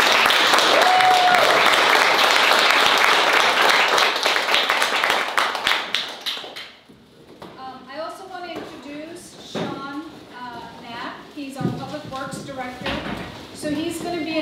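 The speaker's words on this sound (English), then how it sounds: "Can we get a round of applause for our panel?" A room full of attendees at a developer roundtable meeting applauds the panel, with dense steady clapping for about six seconds that thins out, followed by someone speaking.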